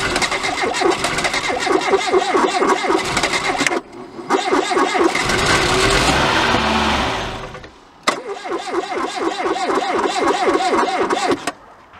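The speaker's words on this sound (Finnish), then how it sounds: "ei saatu sitikkaa tällä kerralla käyntiin" A Citroën BX 16 GTi petrol engine running on old fuel cranks repeatedly in long bursts, the starter whirring rhythmically for several seconds, pausing, then cranking again without catching; loud and close, no talk.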